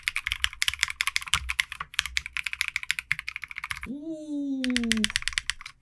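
Typing on a custom Trigon60 mechanical keyboard fitted with case foam, a close, rapid clatter of keystrokes that stops briefly for a rising whistled tone, with a faint voice.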